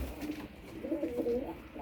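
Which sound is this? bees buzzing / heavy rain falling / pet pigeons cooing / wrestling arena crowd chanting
pet pigeons cooing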